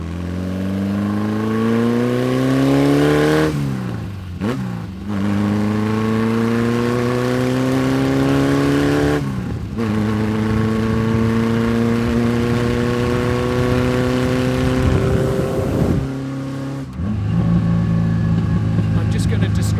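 A classic Porsche engine, recorded from the back of the car while driving, revs up steadily and loudly through several gear changes, each rise in pitch broken by a brief dip at the shift.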